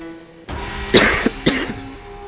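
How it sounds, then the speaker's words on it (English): Two sharp coughs from one person close by, about half a second apart, over a low steady background hum. "Excuse me for coughing."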